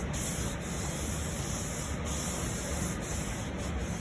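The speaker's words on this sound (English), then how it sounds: "we got most of the flat surfaces sanded down" Sanding a Mercedes C36 AMG bumper with a sanding block, giving a continuous close scratchy rubbing with long steady strokes and a few slight breaks in rhythm, no voices.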